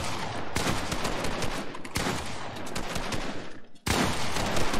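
Shotgun and assault rifle fire in Fortnite, loud rapid bursts of shots in several separate volleys with brief pauses between them and no talk.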